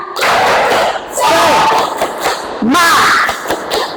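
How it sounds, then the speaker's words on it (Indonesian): A school class shouts a rhythmic spirit clap chant in unison, loud bursts of many young voices with claps and thumping beats, close and energetic. "Tepuk semangat dulu. Tepuk semangat."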